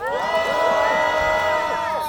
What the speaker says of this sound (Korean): 발언해주신 대학생에게 박수 한번 부탁드립니다.